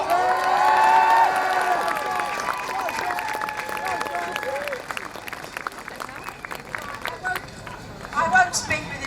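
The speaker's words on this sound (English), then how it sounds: "So a huge round of applause for Doc Gibson." Crowd at a Save Our NHS rally in London applauding and cheering for an honoured speaker, a loud dense burst of clapping with shouts that gradually thins out over several seconds.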